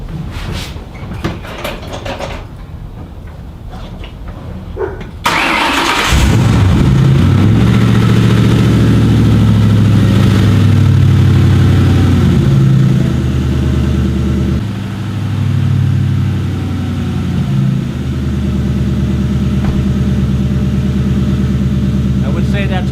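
A 2004 Ford Mustang GT engine, jump-started after sitting a year with a dead battery, cranks and catches, then settles into a steady, loud idle that continues with slight dips in revs.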